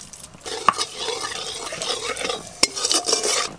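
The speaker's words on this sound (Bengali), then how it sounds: "চিকেন কারির রং ভালো আসার জন্য গরম তেলে অল্প একটু চিনি দিয়ে দেব" Sugar sizzles in hot oil in a pan while chicken curry is started, a steady bright frying hiss with a few sharp clinks of a utensil against the pan.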